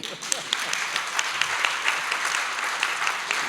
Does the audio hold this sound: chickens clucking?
no